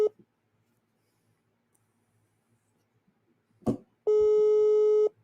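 A phone sounds an alert for an incoming call: a short tone, then a sharp click, then a loud steady electronic tone lasting about a second, with silence between.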